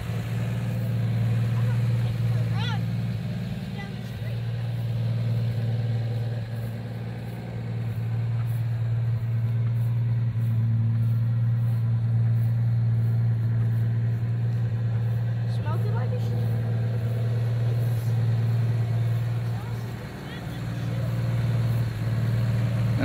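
A 1965 Plymouth Barracuda on a drive, its engine holding a steady low drone with slight dips as it rolls along, loud and continuous for the whole stretch with no talking over it.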